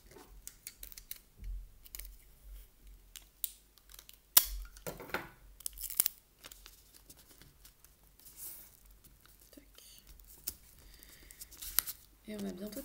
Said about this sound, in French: on va mettre un tout petit bout de scotch au milieu pour pas que ça bouge